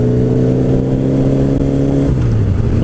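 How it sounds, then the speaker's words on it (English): Several motorcycles, including a Buell and a 500, riding in a group on the road, with loud, continuous engine rumble and a steady tone that shifts slightly near the end. "Listen to our bikes sing their song."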